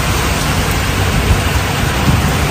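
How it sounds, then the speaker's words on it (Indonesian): Heavy rain pours steadily outdoors on a mountain trip, a dense continuous hiss close and loud with faint low rumbles beneath, and no one speaking. "Tuh, hujannya deras banget."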